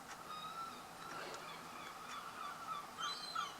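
Seagulls calling outdoors near a block of flats, with sharp, high cries scattered through the clip and clustering toward the end over steady ambient noise.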